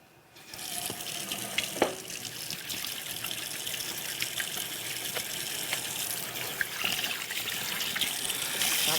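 Water trickles steadily from a tap into a sink indoors, a continuous splashing hiss that starts after a brief quiet moment and slowly grows fuller, with occasional small clinks.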